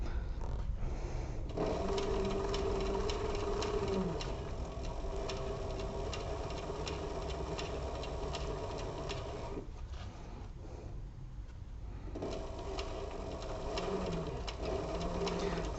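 A sewing machine runs close and steady, stitching the bottom seam of a crossbody bag with a fast, even mechanical whir, pausing briefly twice before starting up again, with no talking.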